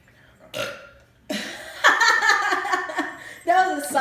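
A long, loud, gravelly belch after drinking Pepsi rumbles out close to the mic, followed by a second shorter burst, with a brief vocal sound just before it.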